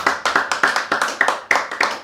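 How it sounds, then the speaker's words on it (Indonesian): An audience at a relaxed talk gathering claps, giving a quick, close run of sharp hand claps in an even rhythm lasting about two seconds. "Tepuk tangan ya."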